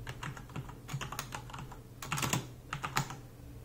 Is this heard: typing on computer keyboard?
yes